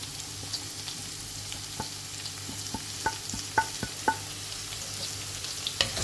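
Continuous frying sizzle of zucchini in a pan with occasional sharp taps and clicks of a utensil stirring, close and steady, no voices.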